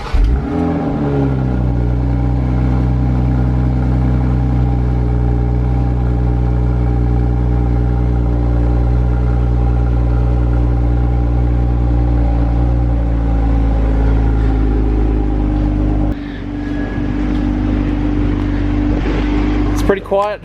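2020 Toyota Supra engine cranking to life, then settling into a loud, steady close idle drone that runs evenly for a long stretch, with a brief dip and a rustle near the end.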